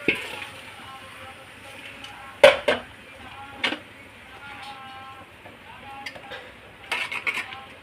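Half-cooked rice goes onto jackfruit pieces frying in a pot for jackfruit biryani: scattered metallic clinks and scrapes of a utensil against the pot over a soft, low sizzle.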